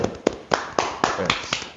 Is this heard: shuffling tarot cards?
no